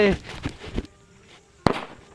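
A Kerala kuruvi country firecracker bursts in one sharp, loud bang, standing alone after a few earlier thumps and crackles, with a short fading tail.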